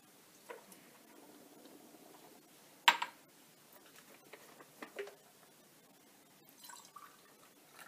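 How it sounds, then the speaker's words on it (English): Distilled water is poured into a glass volumetric flask in a chemistry lesson, giving faint, sparse drips and trickles with one sharper clink near the start, all quiet with no talking. "So I'll add a bit more distilled water."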